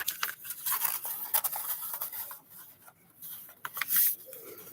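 Scissors snip through folded paper while making an egg basket, a run of close, crisp rustling cuts and scrapes that swell and fade for several seconds, with no talking.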